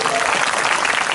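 A church congregation claps loudly together in a dense, steady burst of applause, with voices mixed into the sound.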